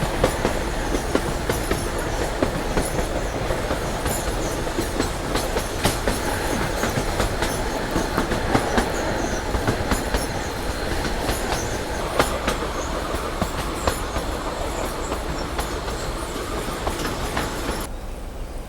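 A narrow gauge passenger train runs between Bilimora and Waghai, heard from on board as a loud, continuous rumble with steady clickety-clack of wheels over rail joints throughout.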